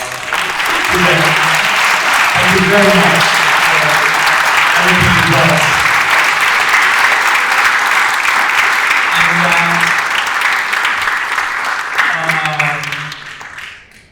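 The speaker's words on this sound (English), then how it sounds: "asking for a round of applause to them" A conference audience at a music and mental health event gives its guests a loud, sustained round of applause, dense clapping that fills the room and fades at the end, while a speaker talks over it.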